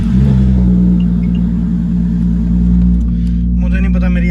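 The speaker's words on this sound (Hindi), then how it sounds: "अब हम गाड़ी को स्टार्ट करते हैं" A Toyota's engine rumbles loudly and close by, with a brief rise in revs, while someone talks over it in a garage where a diagnostic scanner is hooked up to the car.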